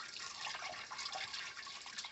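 Water runs from a tap while homemade butter is rinsed in the kitchen, a faint, steady splashing hiss with no voices.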